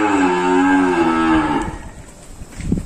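A cow of a Sindhi-type cattle breed lets out one long, loud, close moo that trails off into rustling and shuffling, then a brief louder rise at the end.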